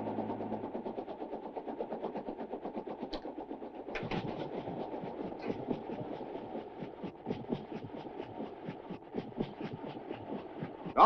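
A train rumbles steadily past with a rapid, rhythmic clatter of wheels on track, continuous and fairly close throughout.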